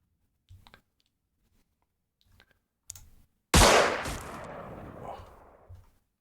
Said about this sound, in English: Shall we do an aim shot with the sniper rifle?